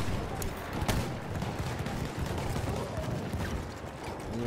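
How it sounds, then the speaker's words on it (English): Rapid bursts of Lewis gun fire in a video game conquest match, with sharp cracks and a dense rattling clatter running throughout, layered over busy battlefield noise. "I just got Lewis guns."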